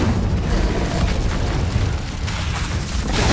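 An Incendio fire spell is cast in Hogwarts Legacy, a dense, continuous roaring whoosh of flame and rumble that holds steady at a loud level throughout, with no talk.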